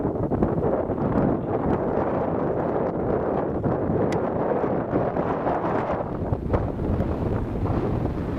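Strong wind roars and buffets steadily throughout in the New Mexico desert along a dirt road, a constant rough gusting noise close to the ear with no voices.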